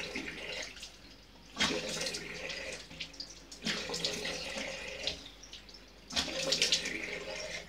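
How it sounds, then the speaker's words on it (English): Tap water running into a bathroom basin while a face is rinsed, splashing in several bursts as hands scoop and spill water, close and moderately quiet. "you just rinse your face with just the tap water, no warm water or anything"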